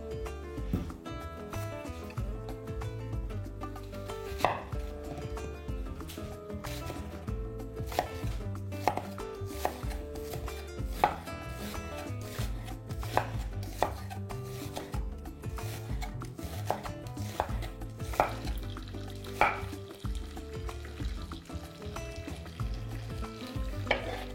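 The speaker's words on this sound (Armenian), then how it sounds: "Այն կտրատելու ենք փետրաձև" Two medium onions are sliced thinly on a board for onion soup, with rapid, regular knife chops repeating throughout, close and crisp, over a faint sizzle.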